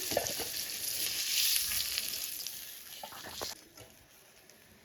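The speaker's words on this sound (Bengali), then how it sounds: "বাদ বাকি মাছের পিসগুলো ভেজে নিচ্ছি" Pieces of rohu fish fry in hot oil with a bright, crackling sizzle that swells in the middle and then thins out, broken by a few sharp pops near the end.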